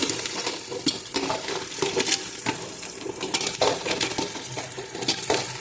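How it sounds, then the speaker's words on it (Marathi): Crabs tumble into a pot of spicy masala frying in oil for a village-style crab curry, setting off a loud, busy sizzle broken by repeated clacks of shells and a stirring spoon against the pot. "तर आपण आता खेकडे या पातळ्यामध्ये टाकून घेऊया"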